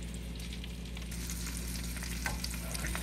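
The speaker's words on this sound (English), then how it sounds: "Here we are, browning the meatballs." Swedish meatballs brown in a frying pan, producing a constant, fairly quiet bubbling sizzle beneath a low steady hum, with faint crackles and no speech.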